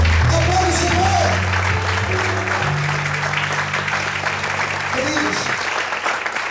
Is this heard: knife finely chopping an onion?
no